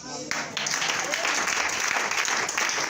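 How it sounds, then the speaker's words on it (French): Church congregation clapping in a loud, sustained burst of applause close by, filling the whole moment. "Acclame."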